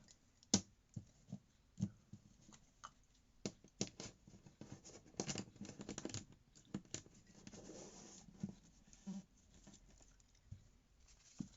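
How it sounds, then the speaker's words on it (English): A deck of affirmation cards is shuffled by hand, giving close, quiet papery riffles and soft taps in uneven bursts, with brief pauses between them and no talking. "So I'm going to do a quick shuffle."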